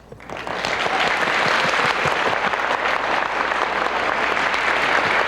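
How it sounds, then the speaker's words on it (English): An audience at a spiritual leadership award ceremony applauds a singer, the clapping swelling in within the first half second and then holding as a steady, full wash of many hands with no voices over it. "So big applause."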